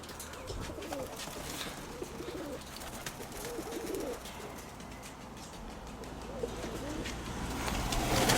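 Pigeons coo in low, repeated burbles amid a breezy outdoor hiss, moderately close and fairly quiet.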